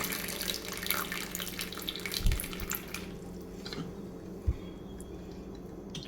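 Water runs and splashes steadily into a pressure cooker holding potatoes at close range, with a couple of soft thuds, no voices present.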